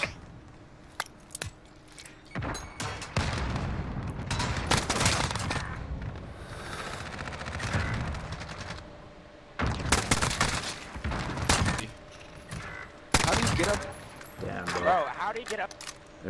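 AN-94 rifle fire in Modern Warfare, semi-automatic single taps, heard as several sharp bursts of shots spread through the stretch with quieter gaps between them.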